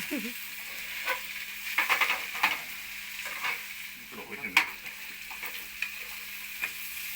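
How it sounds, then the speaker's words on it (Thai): Holy basil and crispy pork stir-fry in a pan over a Lucky Flame gas stove, a quiet sizzle punctuated by repeated clacks and scrapes of a spatula at an uneven rhythm. "ตอนนี้เราก็ผัดมาสลดก่อนนะครับ"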